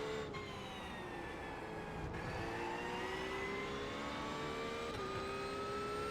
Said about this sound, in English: We have a Porsche inbound.